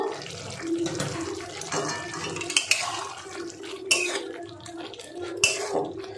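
Spoon scraping and clanking in a pan as fried spices and a little sugar are mixed into a potato and pumpkin curry, steady clatter close by with a faint background hiss.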